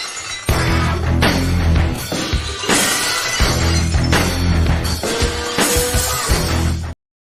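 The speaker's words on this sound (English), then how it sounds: "I'm anticipating a glass break for this one." A loud, close glass-breaking sound effect plays as a burst of shattering crashes, with repeated smashing impacts over about seven seconds before it cuts off sharply.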